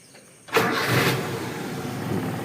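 A carbureted engine cranks and catches, a sudden burst after a brief quiet start, then settles into a steady, rough idle close by.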